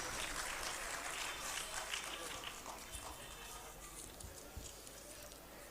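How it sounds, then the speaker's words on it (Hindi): An audience at a children's talent hunt program at the Arts Council in Karachi, Pakistan, keeps up a steady, faint, distant crackle of clapping as children come on stage. "तालियां आपकी बजती रहनी चाहिए"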